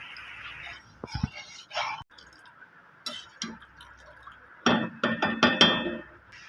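A spoon stirs milk powder into hot milk in a home kitchen, with sparse clinks early on, then a quick, rhythmic run of close metallic taps against the vessel near the end.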